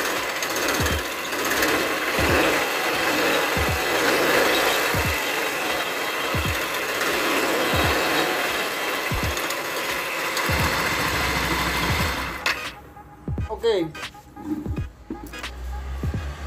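Scooter engine running with an abnormal rhythmic knocking from inside the clutch, loud regular thumps over a rough mechanical drone that cuts out near the end, leaving sputters and clatter.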